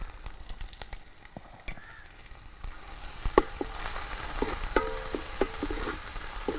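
Garlic and crushed ginger frying in a pan for a Kerala-style prawn roast give a rising sizzle, with scattered stirring clicks and scrapes that grow busier and louder in the second half.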